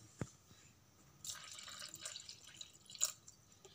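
Water splashes and trickles into cream in a few short pours, close by and fairly quiet, with a small drip at the start.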